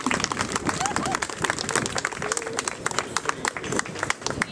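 Scattered, fairly close applause at an outdoor protest rally against electroshock therapy, individual claps standing out irregularly amid crowd chatter and a few bird calls.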